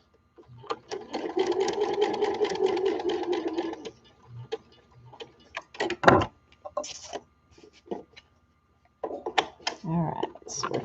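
Sewing machine stitching fabric over pins, a close rapid whirring run of stitches followed by shorter bursts and clunks, with a person talking between and over the stitching.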